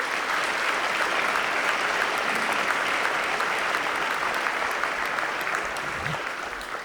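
An audience in a school gym claps at a Ring of Honor ceremony. The applause is dense and sustained and fills the room, then tapers slightly near the end.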